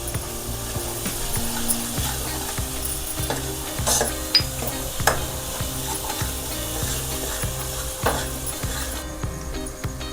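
Ginger garlic paste frying in a pan for a village-style stuffed brinjal (bharli vangi) dish, with steady sizzling and repeated scraping stirs of a spoon, a low hum underneath, no talk.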